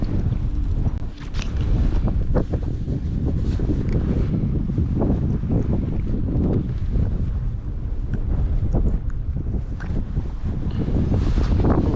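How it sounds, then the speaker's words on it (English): Strong wind buffets the microphone in a constant loud rumble with gusty surges, on an open frozen lake while ice fishing in northern Wisconsin in early March, with no one speaking. "Gosh, it is windy."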